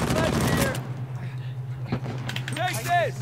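Gunfire in Uncharted 4 multiplayer Team Deathmatch in a village, a loud burst of rapid shots at the start followed by scattered quieter shots and crackle, with someone talking over it.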